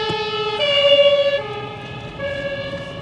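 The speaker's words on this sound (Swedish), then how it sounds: "Det är en jävla ambulans någonstans" Ambulance siren passing nearby, a loud wailing tone that shifts in pitch as it goes by, heard alone with no talk.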